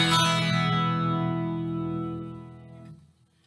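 An Eastwood Classic 12 twelve-string electric guitar on both pickups through an amp modeler sounds one bright strummed chord that rings and gradually fades for about three seconds before cutting off, with no voice.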